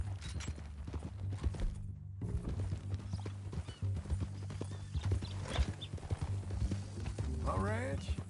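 Horse hooves clip-clop steadily at a walking pace in Red Dead Redemption 2, close and continuous beneath low music, while people talk over them and a horse briefly whinnies near the end.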